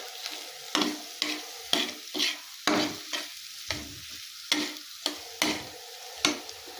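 Clumped chaat masala is stirred and mixed in a dry kadai, with about a dozen regular scraping strokes in a steady rhythm, close and moderately loud, and faint sizzling between them.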